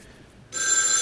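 A telephone bell starts ringing abruptly halfway through, a bright, loud trilling rattle after a near-silent start.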